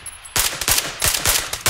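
Rapid automatic gunfire in PlayerUnknown's Battlegrounds, a close, loud burst of several quick shots with irregular spacing after a short quiet start, no talking.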